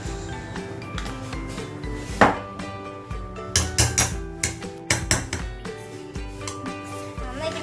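Garlic butter paste with chilli flakes and mixed herbs is stirred and scraped in a bowl, giving a steady run of close, rough rubbing and scraping strokes with a few sharper knocks, and no talking.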